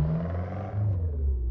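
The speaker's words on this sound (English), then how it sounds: "Nice sound from the exhaust." A Ford Fiesta XR2's engine and exhaust rumble low and steady as it pulls away slowly in first gear, the note shifting slightly midway.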